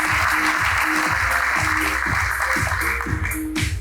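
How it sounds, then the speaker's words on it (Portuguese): A crowd claps steadily at the Fórum CEO Brasil 2019 business event to welcome the Sebrae administration and finance director. The applause is dense and loud, sustained throughout with a soft rhythmic thump underneath. "eu peço uma salva de palmas para a gente receber o diretor de Administração e Finanças do Sebrae Nacional, Eduardo Diogo."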